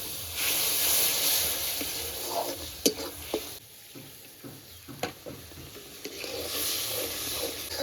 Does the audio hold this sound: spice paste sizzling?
yes